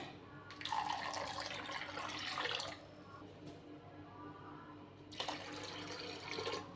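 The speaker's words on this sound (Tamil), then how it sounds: "இதில் ரெண்டு கப் தண்ணி ஆட் பண்ணுறேன்" Two cups of water are poured into a pan while making Tirunelveli wheat halwa: two separate splashing pours, each a couple of seconds long with a quiet pause between, close and clear with no talk.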